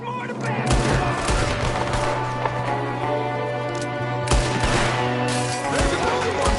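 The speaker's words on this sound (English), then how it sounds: "There's another one shooting from the window." Rapid gunfire in a Red Dead Redemption 2 shootout, dense crackling volleys of shots and booms running throughout, loud and close, with voices shouting in the mix.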